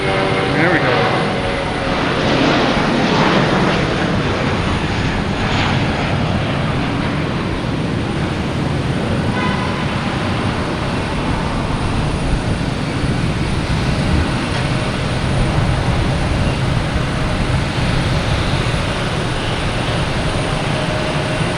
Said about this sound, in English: We have JetBlue heading to Fort Lauderdale, an A320.